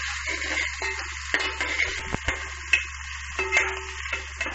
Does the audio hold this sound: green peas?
yes